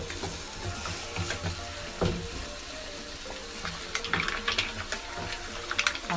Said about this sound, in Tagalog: matunog ang ating mga bawang sibuyas